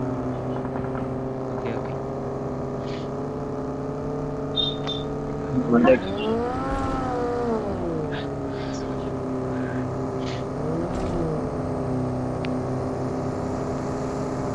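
Vehicle engine in a battle royale video game, a steady droning hum that rises and dips in pitch as the vehicle accelerates and slows, with players talking briefly over it.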